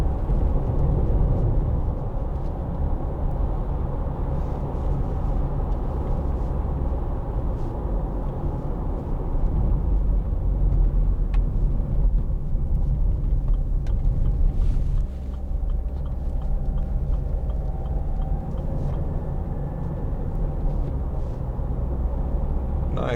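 A 2010 Land Rover Freelander 2 TD4 diesel cruises with a steady low engine and road rumble filling the cabin, continuous and fairly loud, no talking.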